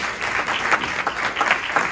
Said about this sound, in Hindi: आप सबसे दरख्वास्त है कि हमारी टीम के लिए जरा तालियां बजा दीजिएगा